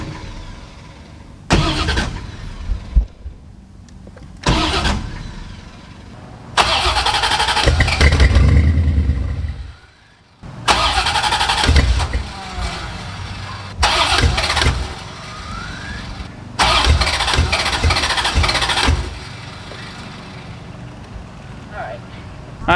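A C4 Corvette engine sitting unused for over 12 years cranks and catches for a split second, with loud bursts of starter and engine noise broken by pauses, and people talking in between.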